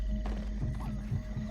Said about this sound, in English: Horses? Yeah.